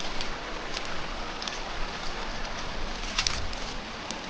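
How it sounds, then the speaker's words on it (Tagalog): Pigeons or doves coo repeatedly outdoors by day, with scattered bird chirps over a steady open-air background, moderately close and fairly soft, no talking. "mga huni ng ibon"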